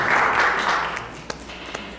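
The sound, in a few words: audience applause welcoming speaker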